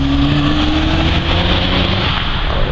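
A Subaru Impreza STI accelerates on a race track, its engine note climbing loud and close before easing off, a strong continuous roar with no voices.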